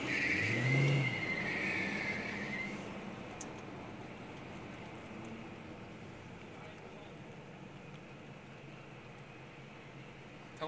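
A Dodge car's engine roars loudly at the start, then fades into a steady rumble of traffic on the Milwaukee Mile race track as people talk in the background.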